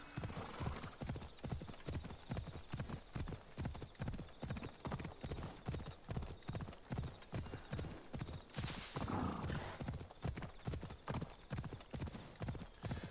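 Horse hooves gallop steadily across ground in the Assassin's Creed Odyssey video game, a fast rhythmic clip-clop that continues the whole time, close and even, with a brief burst of wind or rustling partway through.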